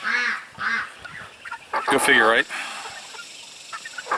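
Poultry of several breeds give honking, gabbling calls in short bursts near at hand, with a voice speaking between them.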